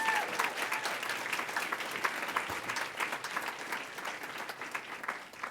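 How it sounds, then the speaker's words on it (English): Audience at an Alliance for Justice student event breaks into steady applause, a sustained patter of many hands clapping, even and moderately close, tapering off slightly toward the end with no talking over it. "Can we give Kelly a round of applause?"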